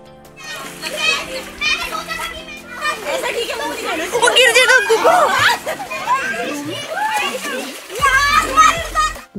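Children shriek, shout and laugh while splashing in a swimming pool, with busy overlapping voices and bursts of water splatter throughout, louder in the middle.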